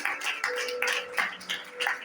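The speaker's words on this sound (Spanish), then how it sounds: "Den un fuerte aplauso a Dios." A church congregation claps during a Wednesday worship meeting, a soft, rhythmic run of hand claps in a roughly even beat, fairly faint throughout.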